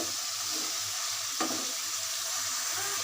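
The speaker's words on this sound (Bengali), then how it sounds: "শুটকিগুলো কষানোর জন্য আমি একটু ভালো করে সামান্য পানি দিয়ে দিব" Dried fish sizzles steadily in a pot while being sautéed and stirred, with a constant frying hiss and a single brief scrape of the utensil midway.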